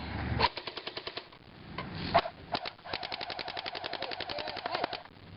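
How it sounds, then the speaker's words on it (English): An airsoft gun fires close range at a target: rapid strings of sharp plastic snaps in quick bursts, one short volley, a pause, then a longer steady run of shots, close and crisp. "Another close range shot."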